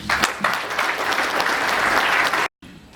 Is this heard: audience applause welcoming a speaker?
yes